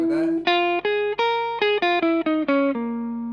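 Electric guitar runs through a minor blues scale including the flat fifth, about ten distinct single notes picked one after another with an effects-coloured, slightly distorted tone, close and clear with no talking.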